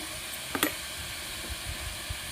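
A kilo of mutton sizzling in a pan with chili powder makes a soft, continuous frying hiss, broken by a couple of sharp clinks early on and a few light knocks later.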